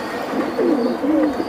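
An old-breed Bagha pigeon coos in low, rolling bursts close by, with a couple of throaty phrases over steady background noise and no talk.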